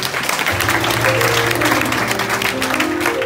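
Congregation applauding at a church mission day gathering, a steady wash of clapping hands that fills the space with a low hum of voices and music beneath it.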